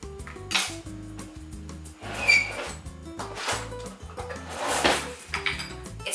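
Spoon scraping the seeds and stringy goo out of a halved spaghetti squash, producing repeated wet scrapes and knocks against the shell over a low hum.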